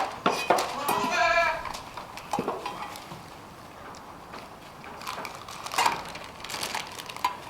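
Goats bleat in a few sharp, nearby calls, with clattering and shuffling inside a barn and a quiet stretch between the cries.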